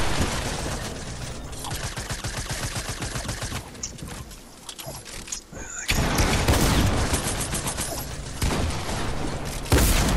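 Rapid AK rifle gunfire from a first-person shooter video game, loud bursts of shots running through most of the stretch with a brief lull midway, mixed with clattering mechanical game sounds.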